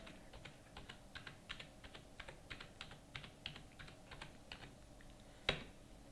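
An account number being typed on a computer keyboard while making entries in Tally Prime accounting software: a steady run of close, fairly faint keystrokes ending in one sharper key press.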